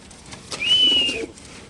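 A single short coo, about a second long, comes from a Lahori pigeon at a pigeon farm, close and fairly clear over a quiet background.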